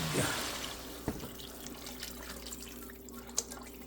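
Water pours and splashes into a cooking pot of sautéed mung beans in a steady, fairly quiet stream, with a couple of faint knocks.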